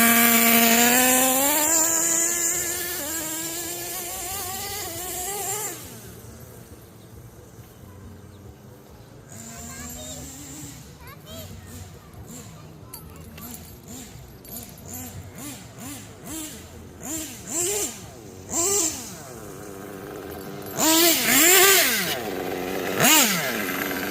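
A Kyosho USA-1 Nitro V2 RC monster truck's small nitro engine screams through rising and falling revs, then settles into choppy bursts of throttle with sharp rhythmic spikes, loud and near.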